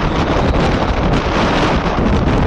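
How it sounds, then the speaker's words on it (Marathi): Strong wind roars and buffets the microphone at a waterfall viewpoint on Lingacha Dongar, a loud, continuous gusting rumble with no voices. "जरा वारा असेल इथे"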